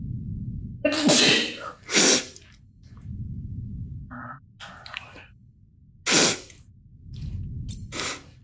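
Several sneezes in a Star Wars Jedi Fallen Order video game, sharp loud bursts at irregular intervals, with quieter breaths and rustling between them.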